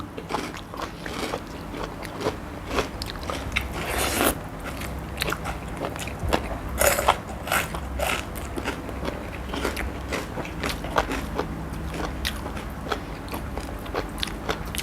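Spicy Thai som tam with squid tentacles is bitten and chewed up close, with steady wet crunching and squelching mastication throughout, a few sharper crackling bites standing out.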